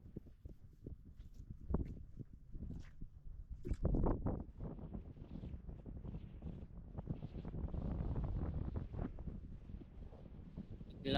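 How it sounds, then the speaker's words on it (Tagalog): Strong wind gusting on a mountainside, buffeting the microphone in irregular rumbling bursts, with a louder surge near the end and scattered knocks. "Bigla na namang lumakas ang hangin."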